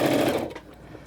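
A sewing machine stitching a minky throw pillow, a brief loud close whirring run that fades into quieter mechanical ticking within about a second, with no talk.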